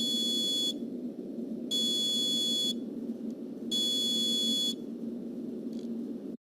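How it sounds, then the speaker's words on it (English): Piezoelectric buzzer on a homemade electronic cooker sounding when the cook time ends, three long steady shrill tones about a second each with gaps between, over a constant low background hum. "this buzzer went off once the cook time was reached"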